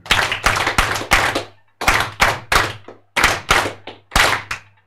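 Forum audience giving guests a counted round of synchronized claps: sharp, loud, unison hand-claps in steady bursts, grouped in short runs with brief pauses between, heard alone without talking.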